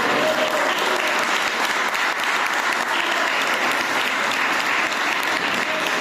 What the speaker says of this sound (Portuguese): Quem foi liberto por Jesus, aplauda o nome dele.